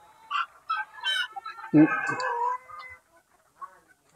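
Egg-laying hens in a chicken coop cluck and squawk close by, a few short calls followed by a longer throaty cackle, then quiet.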